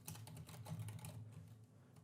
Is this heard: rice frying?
no